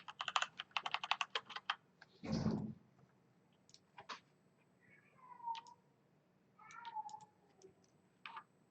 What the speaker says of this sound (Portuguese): Meu gato está atacado.